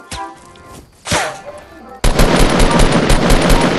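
Loud, sustained automatic gunfire from a video game bursts in at the midpoint and rattles on continuously, preceded by a couple of sharper isolated shots.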